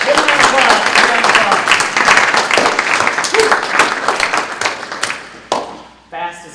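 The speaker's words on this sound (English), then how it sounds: "Good round of applause" A classroom group at a kids' fitness training session bursts into a loud, sustained round of applause and clapping that fades near the end, with brief voices and a few taps.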